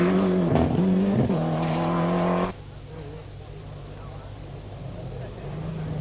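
A 1995 rally car is heard on a gravel-strewn, adverse-camber downhill right-hander, its engine loud and close with a rising rev harmonic, then dropping to a quieter, distant drone as it moves away.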